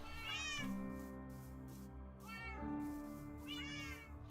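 A Minecraft cat meows three times in a row, each call a drawn-out, rising-and-falling cry with short pauses between.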